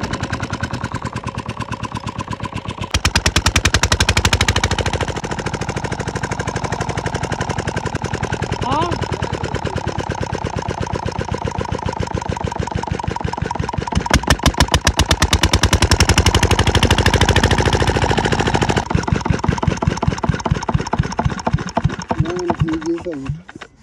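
A Peter diesel engine runs with a loud, rapid chugging knock that starts abruptly after a few seconds and holds steady, its rhythm surging and easing at times.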